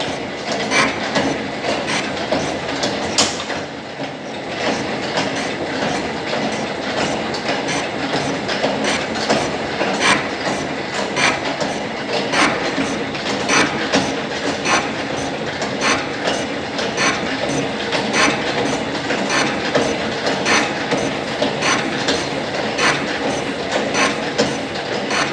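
A shaping machine cuts a metal workpiece, sending out a steady, loud mechanical clatter with regular rhythmic clicks from the ram's back-and-forth strokes. It continues without a break and there is no talk.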